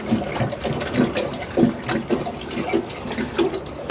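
Water poured into a basin with irregular splashes and sloshing, close up and fairly loud, continuing steadily for a few seconds.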